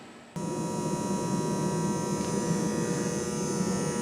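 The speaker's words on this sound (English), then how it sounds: "Hear that buzz? That buzz is constant and can be pretty irritating." An old shop light gives off a constant electrical buzz that switches on abruptly, then holds a steady, loud, tonal hum with no variation and no talking.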